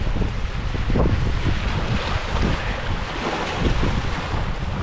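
Strong wind buffets the microphone on the windward side of a lakeside campsite in the Boundary Waters, a loud, steady roar with gusty rumbling and possible waves beneath, no voices.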